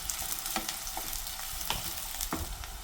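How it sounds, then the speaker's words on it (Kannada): Onions frying in hot oil in a pan, a close steady sizzle with scattered crackles and stirring scrapes, no voices. "ಎಣ್ಣೆ ಕಾಯ್ದ್ಮೇಲೆ ಈರುಳ್ಳಿ ಹಾಕ್ಕೊತಾ ಇದ್ದೀನಿ. ಚೆನ್ನಾಗಿ ಫ್ರೈ ಆಗಬೇಕು ಈರುಳ್ಳಿ."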